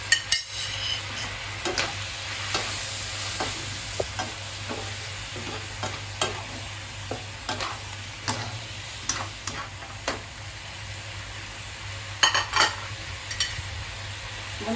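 Eggplant and chilies stir-fried in a pan, with steady sizzling and frying under repeated scraping and tapping of a spatula against the pan, continuing throughout.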